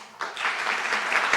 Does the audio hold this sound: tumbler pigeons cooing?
no